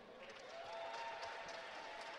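An audience applauds at a school fashion show, a faint, steady wash of clapping from a crowd that swells slightly and continues throughout.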